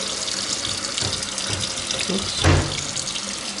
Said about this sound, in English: That's just the hot water.